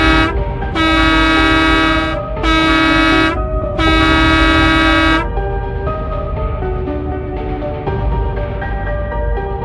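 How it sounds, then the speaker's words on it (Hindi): A mini bus pulls up and sounds a loud, close horn in three long musical blasts, then its engine rumbles on at a lower level as it arrives. "हो जाते हैं कि बस आ गई।"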